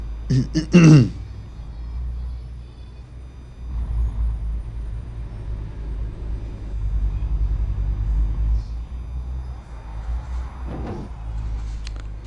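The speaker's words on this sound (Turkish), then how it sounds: "Hemen motorumuzu çalıştıralım şuradan. Çalıştı evet motorumuz." A vehicle engine in a video game starts with a sharp burst, then settles into a steady low idling rumble that runs the whole time, with faint voice sounds in the background.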